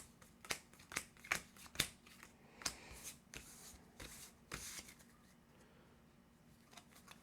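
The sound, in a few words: shuffling a deck of game cards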